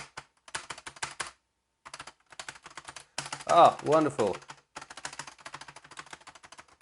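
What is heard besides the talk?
typing on Sun Microsystems Type 5C keyboard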